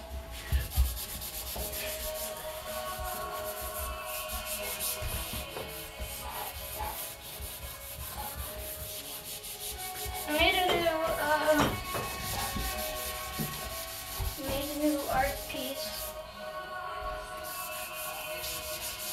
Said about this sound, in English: we're doing this sink again. It's the third time I'm scrubbing.